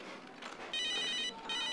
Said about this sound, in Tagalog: Uy! May tumatawag!